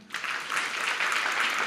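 A church congregation applauding during a service, a steady, even wash of many hands clapping together at moderate volume for a couple of seconds.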